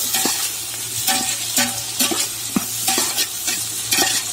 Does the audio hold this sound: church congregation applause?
no